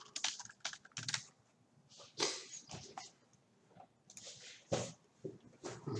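Someone types a search on a computer keyboard, with quick bursts of close key taps and short pauses between them, fairly quiet and without speech.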